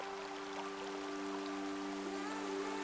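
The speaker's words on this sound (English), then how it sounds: "You hear the sound of the water coming down." Gentle waterfall pouring into a rainforest pool, a steady soft rush of falling water with no speech, even and continuous throughout, with a faint low hum underneath.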